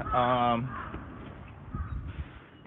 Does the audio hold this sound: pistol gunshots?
no